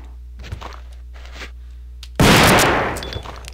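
A shotgun blast in Resident Evil 2, a single loud, close boom that bursts in after a few soft thuds and footsteps, then rings and fades away.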